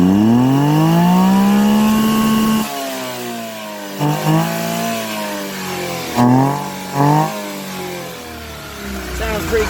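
A pickup truck with its catalytic converter removed drives down the road, its loud exhaust rising and falling through several revs and gear shifts, close and continuous with no talk over it.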